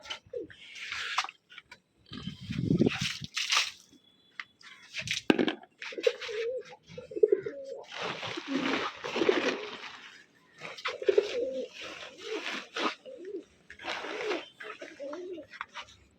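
Pigeons coo in low, throaty bursts among rustling and shuffling, with a person talking intermittently over them.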